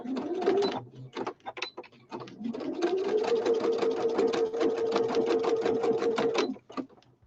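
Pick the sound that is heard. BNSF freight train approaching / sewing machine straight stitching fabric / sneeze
sewing machine straight stitching fabric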